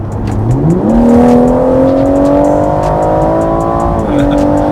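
A BMW M140i accelerating hard from 90 to 140 km/h, its engine note rising sharply then climbing steadily in a loud, close drone before a brief upshift dip near the end.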